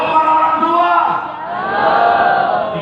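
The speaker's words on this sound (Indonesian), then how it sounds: "Tepuk tangan yang paling meriah." Church congregation cheering, a loud crowd of voices shouting and whooping together in sustained swells, heard close and without clear clapping.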